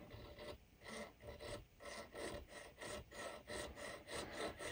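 A metal file rasps back and forth across the sight dovetail on an M&P Shield handgun, in about eleven even strokes. The rhythmic scraping sounds close and quiet, with no talking.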